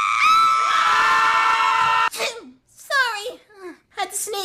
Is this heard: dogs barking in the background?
no